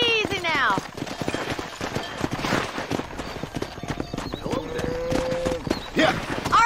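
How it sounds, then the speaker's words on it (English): Horse hooves clip-clopping steadily in Red Dead Redemption (2010) on a ranch, with a brief whinny near the start, mixed with game ambience and people talking throughout. "Control that horse, will you?"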